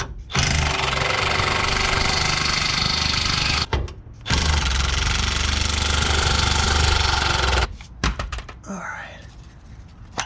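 Power tool loosening 14mm bolts on a Toyota driveshaft carrier bearing, loud sustained rattling impact bursts close by, two long runs separated by a brief pause, then clunks and handling noises.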